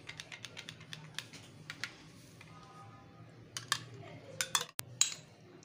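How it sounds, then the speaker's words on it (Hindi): Spoon clinking and scraping against a bowl while mayonnaise is mixed into white sauce, a string of light, quick clicks and taps, fairly close, with a louder clatter near the end. "मायोनीज़ के साथ हम इसको थोड़ा सा मिक्स करेंगे"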